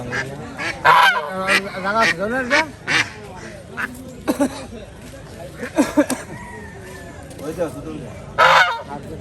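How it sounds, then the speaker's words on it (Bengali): Large geese honk loudly and repeatedly at a busy village poultry market, in harsh bursts and clusters close by, with people talking throughout. "বড় সাইজের কিন্তু রাজহাঁস"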